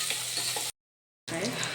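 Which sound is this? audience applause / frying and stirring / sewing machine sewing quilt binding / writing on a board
frying and stirring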